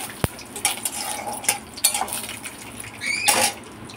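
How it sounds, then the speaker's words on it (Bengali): Raw peanuts being stirred and fried in oil in a wok, with repeated metallic scrapes and clinks of the utensil against the pan over a soft, steady sizzle, close and moderately loud. "তো বাদামটা একটু নেড়ে চেড়ে ভেজে নিই"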